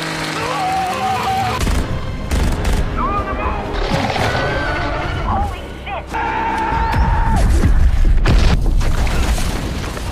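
Film explosion and gunfire effects from a scene where an aircraft is blown up during a battle with monsters, loud booms and bursts filling the clip under a dense, dramatic mix with a voice narrating over it.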